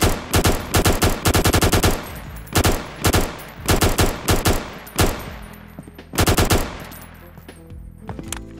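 An ACS gun in a Roblox Studio game fires in rapid bursts of loud, sharp shots with short pauses between them, alone with no voices.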